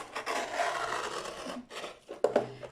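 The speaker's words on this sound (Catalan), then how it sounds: "Jo, per anar més ràpid, faré servir un cúter" A utility knife slices through paper along printed lines, making close raspy scraping strokes, a long continuous drag followed by shorter cuts.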